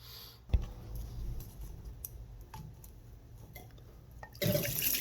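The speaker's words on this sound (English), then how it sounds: "That was a good 2 cups of water dumped out of there" Water gushes out of a top-load washing machine's drain pump in a sudden burst near the end, after a quiet stretch broken by a few clicks and a sharp knock.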